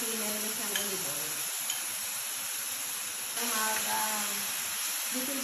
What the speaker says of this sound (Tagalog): ilalagay ko na after 1 hour na binabad ko sa ref tong minarinate kong chicken